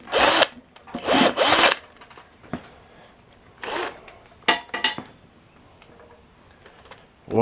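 A power tool removes bolts from a pull start shroud in several short, loud whirring bursts separated by pauses, each run ending abruptly, with faint clicks and handling noise in between.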